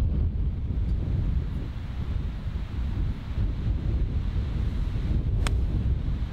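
Steady wind batters the microphone on an open golf course at Staddon Heights Golf Club, a loud, continuous low rumbling roar that barely lets up, with a single faint click near the end.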